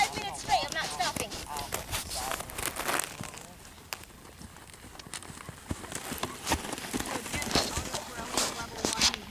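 Horse trotting at a camp, hooves clip-clopping in a steady rhythm at close range, with faint crackling in the background.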